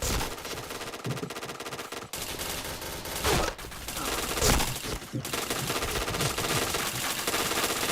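Sustained automatic gunfire in a shooter video game, long loud bursts of rapid shots broken by a couple of brief pauses, heavy and close throughout with little talk.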